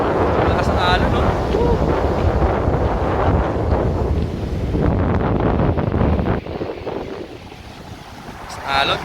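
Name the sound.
strong ocean waves at Malagundi Point, Lobo, Batangas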